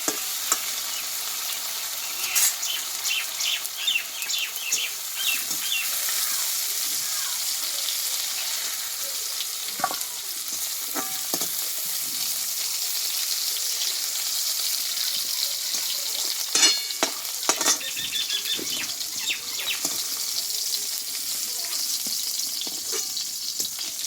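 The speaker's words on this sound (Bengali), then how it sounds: "গোটা মশলা কিন্তু ভাজা হয়ে গেছে আমি এবার তেল থেকে তুলে নেবো" Whole spices crackle and sizzle in hot oil in a pan, a steady bright frying hiss broken by sharp pops and occasional stirring scrapes that run unbroken for the whole stretch, with no talking.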